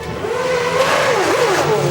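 A 2009 SuperLeague Formula race car at the Zolder circuit. A loud, high engine whine rises and dips through gear changes and braking, sustained and close.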